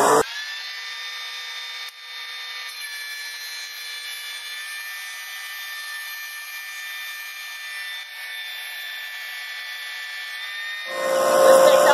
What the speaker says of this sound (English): I'll set the planer for 1 inch and 1/16. Run it throughout one side